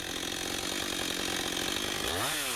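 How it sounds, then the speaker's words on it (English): A chainsaw makes shallow cuts into the compressed underside of a fallen maple, a continuous loud close-up buzz that dips in pitch as it bogs into the wood near the end. "I then make multiple closely spaced shallow cuts on the maple's tightly compressed underside to reduce tension within the stem"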